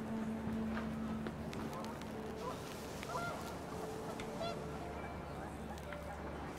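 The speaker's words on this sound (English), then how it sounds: "wind picked up, and panicked geese appeared and quickly went" Panicked geese honk in the narrative video game What Remains of Edith Finch as wind picks up. The scattered honks sit faintly in a busy outdoor mix under a speaking voice.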